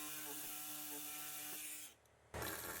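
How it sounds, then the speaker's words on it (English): A power saw cuts through the driver's side leg of the driveshaft carrier on a facelift LD Dodge Charger, Challenger or Chrysler 300, with a steady buzzing whine that cuts out briefly and then resumes. "Make a cut on the driver's side leg of the carrier."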